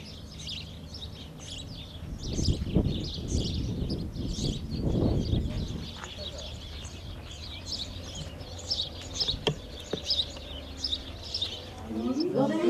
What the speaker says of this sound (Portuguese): Os pássaros.